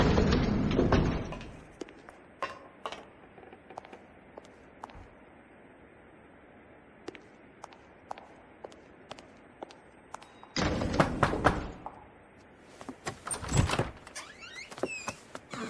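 Sliding elevator doors in a video game move with a quick mechanical rush, followed by scattered light clicks and thumps, and then a second loud opening or closing a little later.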